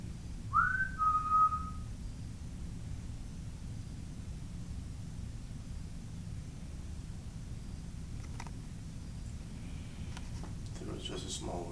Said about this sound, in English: It was just a small whistle